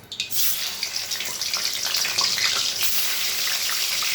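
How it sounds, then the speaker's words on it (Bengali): Pieces of snakehead fish drop into hot oil in a wok, setting off a loud, close, bubbling hiss that rises after a brief start and holds steady with spattering crackles. "এবার আমি মাছগুলো ছেড়ে দেবো একটা একটা করে ছেড়ে দিয়ে লাল লাল করে মাছগুলো কড়া করে ভেজে নেবো"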